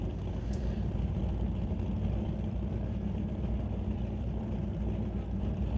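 A 1967 Chevy II drag car in the Super Combo class, held back by a throttle stop at a drag racing event, makes a steady, loud low engine rumble that stays even throughout with no voices.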